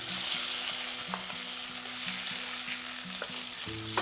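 Large pieces of boiled potato fry in hot desi ghee in a kadai, a loud, constant sizzle with occasional stirring scrapes, close up and without talk.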